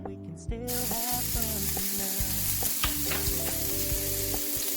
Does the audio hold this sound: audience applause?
no